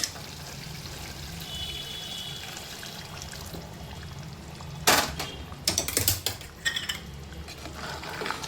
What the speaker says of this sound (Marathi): पाणी टाकून देते याच्यामध्ये